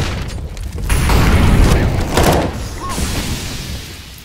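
An incendiary grenade goes off in Counter-Strike, a loud, rumbling burst of flame that swells after the first second and roars for about two seconds before easing into a lower, crackling burn.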